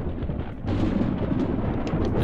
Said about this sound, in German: Deswegen kann es ruhig ein bisschen donnern.